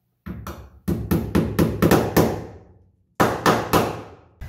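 Hammer blows drive cable clamps in to secure electrical wiring at a new outlet junction box, with a quick run of about eight sharp, close strikes, a pause, then two more.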